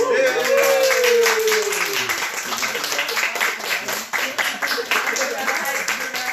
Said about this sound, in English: If y'all want to give one more round of applause for...